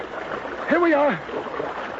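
Stream water washing and splashing in an early-1800s American frontier radio drama scene. A steady broadband rush runs throughout, with a brief voiced exclamation rising over the middle.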